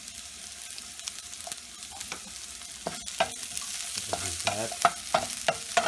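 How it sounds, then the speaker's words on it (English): Shallots and jalapeno slices sauteing in a pan, a low sizzle under repeated spoon clicks and scrapes that grow louder and more frequent toward the end, with a brief spoken word. "So we have been sauteing the shallots and the jalapeno slices for a couple of minutes."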